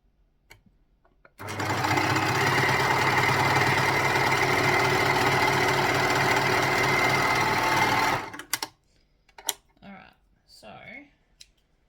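A sewing machine chain stitching a fabric seam for a child's rash top runs in one steady, fast mechanical whir of about seven seconds, then stops, followed by small handling clicks and rustles.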